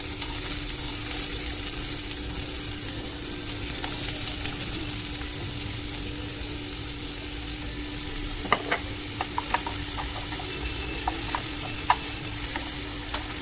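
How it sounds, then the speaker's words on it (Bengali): Onions hit hot oil for pav bhaji, giving a broad, even hiss that holds steady, with a few sharp utensil taps and scrapes coming in near the end. "তেলটা গরম হয়ে গেছে পেঁয়াজগুলো দিয়ে দেবো সব"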